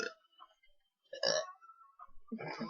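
A person lets out several loud, intense burps in quick succession, close and guttural, separated by short silent gaps.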